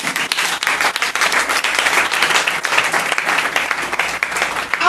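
A church congregation applauding, with steady, dense clapping that carries loud and close throughout.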